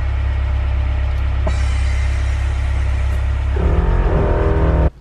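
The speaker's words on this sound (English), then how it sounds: "Start the car, put some air through these bags, and see where she sits after that." A Honda Prelude's engine runs with a steady low hum that swells into a rougher, louder rev near the end before cutting off abruptly.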